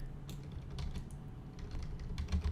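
Computer keyboard keys click in quick, irregular presses, close and fairly quiet, with a few heavier taps toward the end during Roblox game scripting work.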